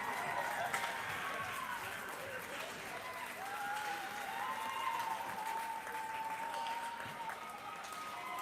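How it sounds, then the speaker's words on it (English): Hockey game crowd at a deciding Game 7 cheering and applauding, a continuous roar of clapping and shouts heard somewhat distant and steady throughout, with a few whistles. "And listen to that crowd."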